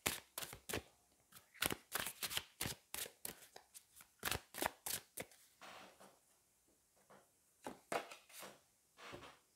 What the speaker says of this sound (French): On va aller prendre peut-être 2 autres cartes.